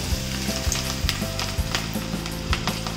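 Fresh okra fries in very hot oil for a crispy bhindi fry, a steady bright sizzle with a faint rhythmic thumping underneath at regular intervals.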